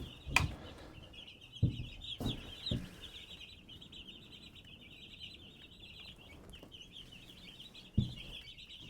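Baby chicks under a warm brooder light cheep steadily in a dense, high chorus that runs throughout, with a few louder thumps and bumps close by.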